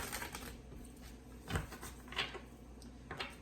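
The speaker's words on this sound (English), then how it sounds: "Just gonna give it a little bit more of a shuffle before we begin." A tarot card deck being shuffled by hand, soft papery riffles and taps in irregular bursts, with a sharper snap of cards around the middle, close and fairly quiet with no talking.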